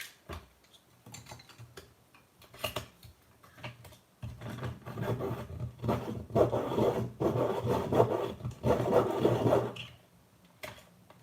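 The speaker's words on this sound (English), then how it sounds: "Right, let's do a sharpen." A Crayola colouring pencil grinds in a sharpener with a dry, raspy scraping that builds into a steadier, louder stretch midway and then stops. It is close and intimate, with a few small clicks and no talking.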